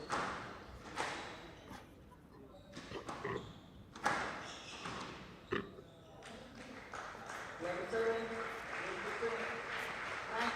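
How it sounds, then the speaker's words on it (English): Applause for the winner of a squash semi-final at the HCL 80th National Squash Championships, with scattered claps and crowd noise rising into steady clapping toward the end, mixed with voices in the hall. "A round of applause for the winner."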